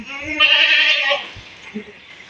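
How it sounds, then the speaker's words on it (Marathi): A goat on a farm gives one loud, close, wavering bleat that fades out, followed by quieter shuffling and a faint second call. "हे आपल्या सहा शेळ्या एका वेळेस वेलेल्या आहेत यांचे जवळपास पंधरा पिल्ले आहेत"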